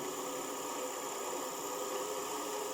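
A homemade machine for beehive frames runs steadily on 8 volts with a faint, even motor whir and hiss, alone and unchanging.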